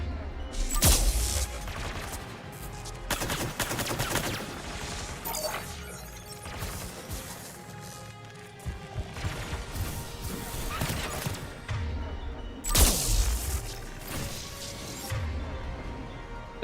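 Gunfire in Mass Effect 3 during a fight with Geth enemies, repeated bursts of heavy shots and crashing impacts at irregular intervals over game background sound.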